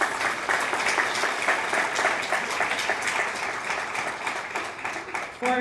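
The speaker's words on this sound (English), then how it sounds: "gonna give them one more round of applause" A student leadership recognition ceremony audience gives a sustained round of applause, dense and steady clapping filling the room before tapering off at the very end.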